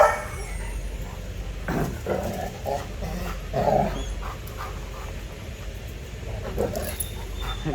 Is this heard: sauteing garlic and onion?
no